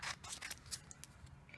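Scissors cutting adhesive vinyl to size for a tumbler, several quick close snips in a short burst, then quieter rustling.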